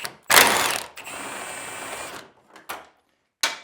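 A ratchet removes bump stops from the axle of a 2002 GMC Sierra pickup, with short bursts of rapid clicking cranking separated by pauses, close and fairly loud, then a few brief final clicks.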